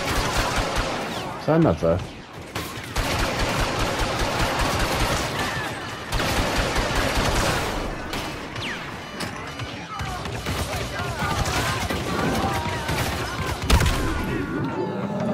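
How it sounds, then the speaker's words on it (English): Star Wars Battlefront II played on PS5, a dense stretch of blaster gunfire, bursts and crashes from a single-player campaign battle, with a player's voice briefly heard over the constant combat. "Oh, who's shooting me?"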